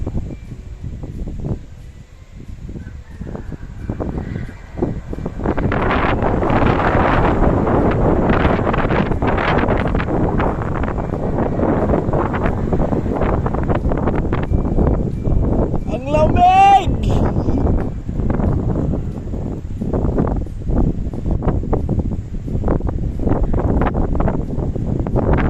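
Strong typhoon wind roars in the province, a loud continuous buffeting rush across the microphone that swells and gusts throughout, with occasional voices under the wind.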